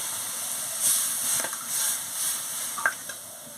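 Boiled dal, pumpkin and potato tipped into a hot pan of sour mango, setting off a steady close hiss and sizzle with a few louder bursts as the food lands, then a soft clink near the end.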